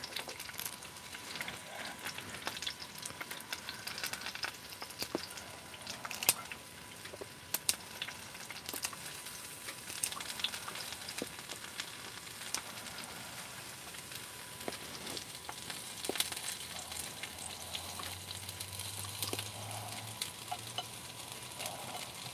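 Garlic frying in a pan on a stove inside a heated tent while camping in the rain, a long, steady, crackling sizzle with small pops throughout, close and fairly quiet, with a low rumble toward the end.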